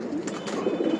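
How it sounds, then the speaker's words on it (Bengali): A large khaki-colored pigeon in a hobbyist's collection gives a soft, close, throaty coo lasting about a second, with no talk. "আরেকটা বিগ সাইজের কবুতর"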